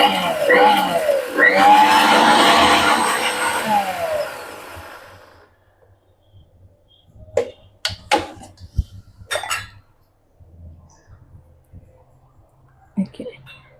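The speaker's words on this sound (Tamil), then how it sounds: "இதுலயே போட்டுட்டு பிளெண்ட் பண்ணிட்டு வந்துடலாம்." A kitchen mixer grinder whirs loudly, blending unpeeled garlic and spices for horse gram rasam, then winds down into quiet clinks and scattered talking.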